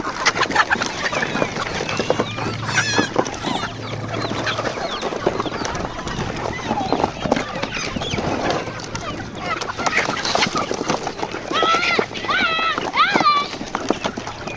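A flock of farm chickens rushes to eat freshly scattered azolla, clucking and calling close by while people talk over the birds throughout.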